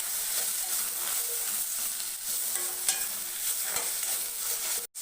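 Chopped onion, tomato and garlic sauté in a pan for a drumstick leaves soup, a continuous sizzle with stirring scrapes throughout, close and fairly loud, ending with a brief sharp break.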